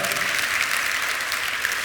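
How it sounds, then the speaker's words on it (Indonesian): A church congregation claps loudly and evenly in a sustained burst of applause lasting about two seconds, with no voices standing out. "Beri tepuk tangan yang meriah"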